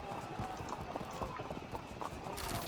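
Light horse cavalry hooves clatter in the Field of Glory 2 strategy game, a faint, busy patter of galloping clip-clop under the game's ambient noise for a few seconds.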